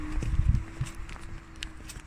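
Footsteps of someone walking down toward a railway station at Heald Green, a few firm irregular steps near the start, then fading into quieter ambience.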